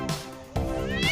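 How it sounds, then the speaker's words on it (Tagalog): Cats meow in two or three quick, loud calls at close range, caught while they are being pulled apart, with no voices over them. "May nag-aawat ng pusa."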